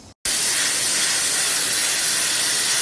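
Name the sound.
pressure cooker releasing steam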